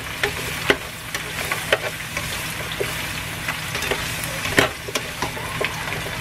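A sauce is stirred in a frying pan beside sautéing broccoli, a steady close sizzle with scattered scraping clicks of a utensil against the pan.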